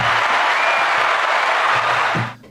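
Dense, steady applause from an audience at the close of a livestreamed guitar performance, filling the clip at an even level before cutting off abruptly near the end.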